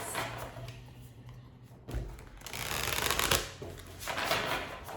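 Oracle cards being shuffled for a tarot reading, a soft papery riffling and rustle with light thumps, close and fairly quiet with no talk.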